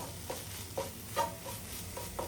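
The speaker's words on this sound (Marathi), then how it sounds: "आता सर्व मसाले आपल्याला मस्त असे मिक्स करून घ्यायचे आहेत बघा" Spices being stirred into paneer bhurji in a pan, with a spoon scraping in repeated strokes about every half second over a soft steady sizzle.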